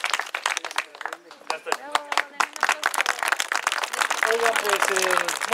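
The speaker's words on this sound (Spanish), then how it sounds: "Denles un aplauso, chicos." Crowd applause at a kindergarten event, with scattered sharp claps building into steady clapping, while voices call out over it.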